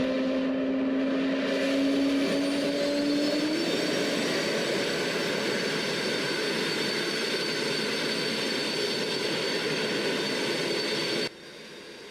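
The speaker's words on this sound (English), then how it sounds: "We're just gonna wait for this engine to come on, and once we start the engine number 3, we'll release the parking brakes." Concorde jet engine spooling up during startup in a flight simulator, a loud steady roar and whine rising in pitch early, then holding before cutting off abruptly near the end, with no talk over it.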